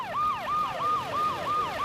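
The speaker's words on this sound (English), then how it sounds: "That's an ambulance coming over right now." Ambulance siren wailing in a fast, regular up-and-down sweep, loud and close, repeating about six cycles with steady road noise beneath.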